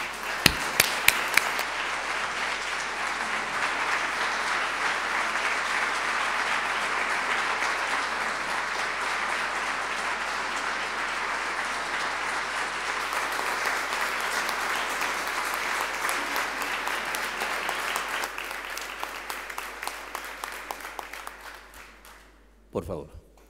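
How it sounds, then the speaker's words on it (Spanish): Sustained applause from a large crowd, steady for about twenty seconds before tapering off into a few scattered claps. "ponernos de pie para darle un fuerte y cálido y sostenido aplauso"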